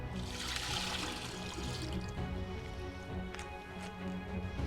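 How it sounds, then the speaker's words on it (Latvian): Water pours steadily into a vase, a continuous close splashing stream that runs throughout at an even level with no talking. "ieliesim šajā vāzē ūdeni, iemērksim dvieli"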